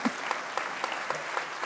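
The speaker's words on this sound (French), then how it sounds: "Je vous propose qu'on applaudisse nos l'ensemble intervenants." Applause from a conference audience honoring the speakers of an industry round table, a steady even patter of clapping sustained for the whole short span at moderate volume.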